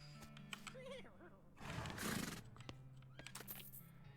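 Horse whinnying in the West of Loathing video game, a short burst with snorting and hoof clatter, heard amid game sound effects and voices.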